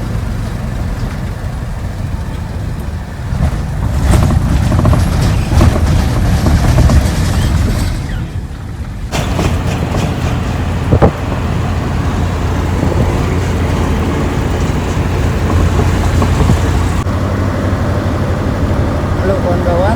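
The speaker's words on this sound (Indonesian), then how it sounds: "akhirnya naik truk lagi dan ini alhamdulillah banget langsung masuk tol" A Tronton truck cruises along a toll road, heard from inside the cab as a loud, steady low engine and road rumble with a brief knock partway through, while people talk over it.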